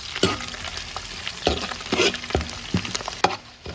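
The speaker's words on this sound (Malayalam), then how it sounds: "ഇതിനകത്തോട്ട് തന്നെ നമുക്ക് കരിയേപ്പില കൂടെ ഇട്ട് കൊടുത്തേക്കാം" Curry leaves hitting hot oil for a fish pickle, a series of sharp crackling bursts roughly every half second, each flaring into loud spitting sizzle, close up with no voices.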